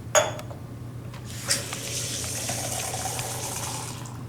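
Water is poured into a container on a table, opening with a short clink and splash, then a steady close gushing stream that fills it, with no talk.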